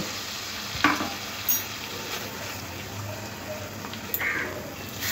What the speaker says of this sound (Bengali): একটু কাশ্মীরি লঙ্কার গুঁড়ো দিয়ে দেব আর একটু জল দিয়ে মশলাটাকে 1-2 মিনিট কষে নেব